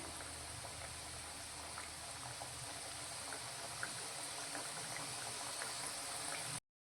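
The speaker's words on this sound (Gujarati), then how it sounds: "બંને સાઈડથી આપણે તેને સારી રીતે ક્રિસ્પી અને ગોલ્ડન બ્રાઉનનો થાય તે રીતે તળીશું" A bajra (pearl millet) flour snack deep-fries in hot oil, giving a steady, soft bubbling sizzle that holds even and fairly faint throughout, then cuts off abruptly at the end.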